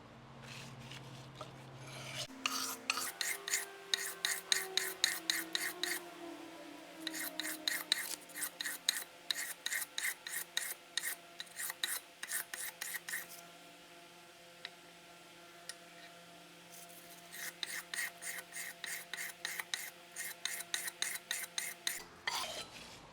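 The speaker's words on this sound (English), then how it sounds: "the majority of the work is done with this first grit to get those bevels shaped in there the way you want them" A leather strap end punch chisel, an old English point, is rubbed over abrasive grit to shape its bevels, giving quick rhythmic scraping strokes in rapid bursts with pauses between runs, close and fairly quiet.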